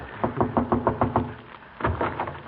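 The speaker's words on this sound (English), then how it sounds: "Shall I knock, Doctor?" A door is knocked on in an old-time radio comedy scene: a quick run of six firm raps, a pause, then two more heavy knocks, close and dry with no voices.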